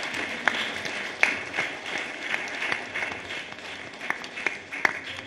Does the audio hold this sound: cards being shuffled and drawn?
no